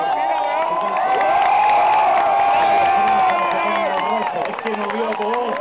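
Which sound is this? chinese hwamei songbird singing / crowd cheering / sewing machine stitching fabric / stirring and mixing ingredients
crowd cheering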